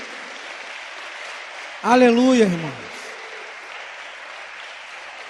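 A church congregation keeps up a steady patter of applause throughout, and a voice briefly calls out over it, louder than the clapping for a moment.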